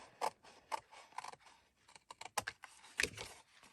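Paperboard being cut up, a quiet series of crisp irregular snips and clicks close by, spaced unevenly with short pauses between cuts and no voices.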